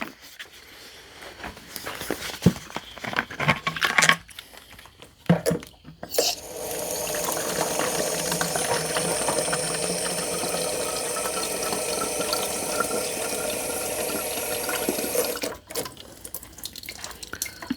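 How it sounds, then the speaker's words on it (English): A few soft clicks and rustles, then a continuous hissing spray of water lightly wets the soil around a rooting fig cutting, running steadily for several seconds before stopping near the end. "I like to spray lightly around the cutting,"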